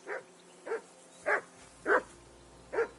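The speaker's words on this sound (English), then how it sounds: "I assume you can hear that damn dog of yours barking." Five separate barks from a dog in the medieval game Kingdom Come: Deliverance 2 ring out at a slow, uneven pace, clear and mid-distance over a faint low hum, with no talking.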